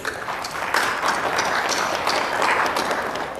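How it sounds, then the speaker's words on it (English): An audience at a sexual harassment training session claps in a dense, steady round of applause, sustained and fairly loud throughout with no speech over it. "So give yourself a round of applause quickly, please."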